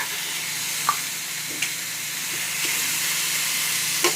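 Food cooking in a pre-seasoned pan gives a steady, fairly loud sizzle and hiss with a few brief clinks of stirring, and no voices.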